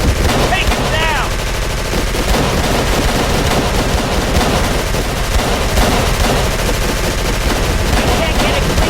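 Sustained automatic gunfire from a firefight in the horror game Call of Cthulhu: Dark Corners of the Earth, loud and continuous, with rapid bursts of shots and a voice speaking briefly beneath the shooting.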